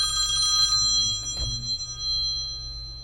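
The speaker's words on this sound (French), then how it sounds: "Je dois enlever la sonnerie, je m'excuse." A telephone rings with a bright electronic ringtone, a bell-like tone sounding for about a second, then a thud and fading tail, with no speech.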